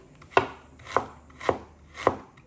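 Onion being chopped with a knife on a cutting board, four crisp, evenly spaced chops about half a second apart, close and clear, with no speech.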